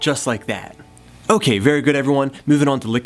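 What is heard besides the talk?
No distinct noise like a dog, phone or traffic.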